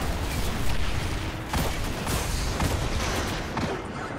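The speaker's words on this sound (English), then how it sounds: "Too many explosions and shit going on, man." Dense, continuous battle noise from the Destiny 2 video game, with repeated booms and blasts layered over steady gunfire throughout, loud and busy with no clear gaps.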